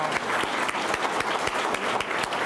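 An audience at a scholarship luncheon applauds a speaker in a steady round of close, crisp handclaps that carry evenly through the moment, with no talking over them.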